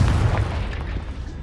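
The Confringo explosive spell in Hogwarts Legacy lands as one deep, booming blast that fades into a low rumble, with no voices over it.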